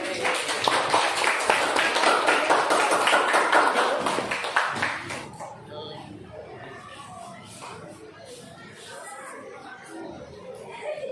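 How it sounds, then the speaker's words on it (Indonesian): A classroom of students claps for a classmate, a busy burst of many hands for the first few seconds that stops abruptly, leaving quieter chatter and children's voices. "berikan tepuk tangan untuk Alfari"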